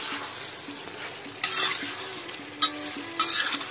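Carrot, bell pepper and garlic fry in a pan outdoors in the rain, a steady sizzle broken by a few sharp stirring scrapes of a utensil against the pan.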